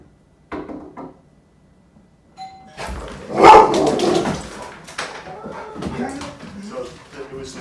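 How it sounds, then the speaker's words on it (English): At home a doorbell chimes once, and a dog immediately erupts into loud, agitated barking and whimpering, with people talking faintly around it. "So it was the doorbell,"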